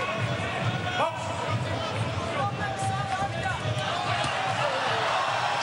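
Boxing arena crowd cheering on fighter Arthur Abraham in his bout with Piotr Wilczewski, a loud continuous roar and babble of voices with a few sharp knocks.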